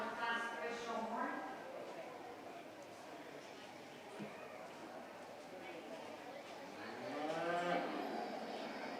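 Angus heifers mooing in the show ring at a county fair beef show, a couple of drawn-out low moos near the start and end over a busy crowd murmur, with speech in the background.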